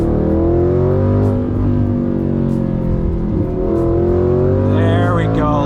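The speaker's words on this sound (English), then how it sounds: "Downshift to second." A gated manual car's engine drones loud and close, then climbs in pitch as the driver downshifts into second and revs; a brief squeal-like rising tone joins near the end.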